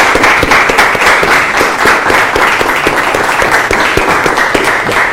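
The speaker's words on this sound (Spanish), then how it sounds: "Fuerte el aplauso para ustedes, señores." Loud, dense applause from a seated audience at a talk, many hands clapping rapidly and steadily with sharp individual claps standing out, running the whole time without voices.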